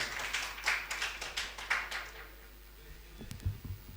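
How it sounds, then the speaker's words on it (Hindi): At a mushaira poetry gathering, an audience claps in short, rhythmic bursts to welcome poet Tabish Khairabadi. The applause is moderate and close, then fades into quieter shuffling. "जोरदार तालियों से खैर मकदम करिए ताबिश खैराबादी साहब।"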